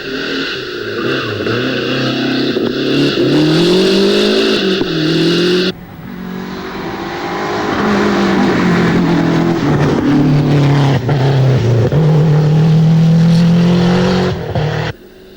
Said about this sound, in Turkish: İskender Atakan ve Serdar Bostancı Giriştikleri mücadelede saniyelerle yarışarak heyecanı yükselttiler